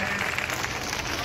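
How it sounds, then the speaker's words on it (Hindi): Audience applause at an Independence Day ceremony in Dholpur district, a steady dense wash of clapping filling the short moment at an even level with no pauses. "जोरदार तालियों से स्वागत करें।"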